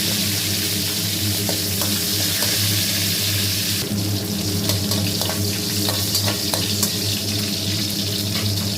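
Curry leaves and green chilies fry in a pan for fish curry, making a loud, steady, close rush of spattering sizzle with scattered crackles that pick up partway through.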